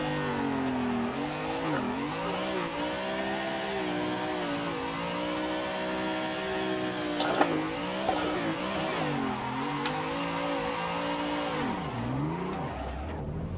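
A car drifts in a driving simulator game: a continuous, loud engine drone whose pitch swoops as it revs, with tire squeal running throughout and no talking.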